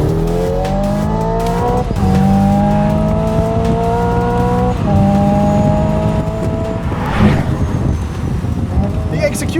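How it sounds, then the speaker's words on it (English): Synthetic engine note from a 2025 Hyundai Ioniq 5 N electric car, a loud, close tone that climbs in pitch and drops at several simulated gear shifts, with rough wind and road rush underneath. "suddenly you have a fake 8-speed transmission with fake engine sound"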